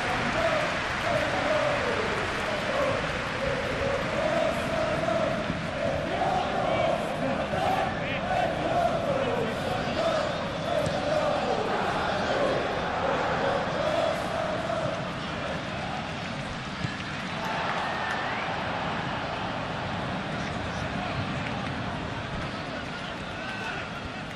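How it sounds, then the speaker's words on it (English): Stadium crowd noise from a PES 21 football video game match between Wolverhampton and Manchester United, a steady dense roar with chanting swells throughout, heard under continuous commentary voices. "Maybe the crowd will stay a little quieter next time."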